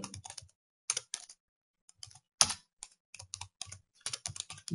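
Bursts of computer keyboard typing while code is entered, quick irregular clicks in short clusters separated by pauses, close and clear with no talking.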